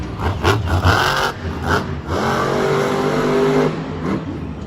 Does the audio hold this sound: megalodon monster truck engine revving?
yes